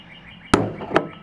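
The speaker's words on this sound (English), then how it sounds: "I can hit it with a rubber mallet." A rubber mallet strikes a loose Lexus side mirror housing twice, two close, sharp thuds about half a second apart with a short ring after each.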